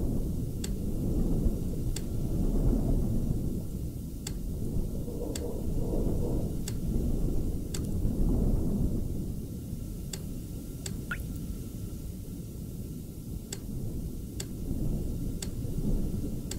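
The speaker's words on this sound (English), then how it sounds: "No, it was nothing. Just a storm, Dick." Thunderstorm in the video game Iron Lung, a continuous deep low rumble swelling and fading in waves, with faint regular ticking clicks over it and no voices.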